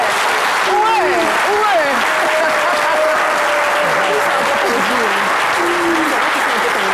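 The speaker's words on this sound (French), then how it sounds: "On va se lever et puis on va les applaudir très, très fort." Sustained applause from a crowd, loud and steady throughout, with whistles and cheers rising over the clapping.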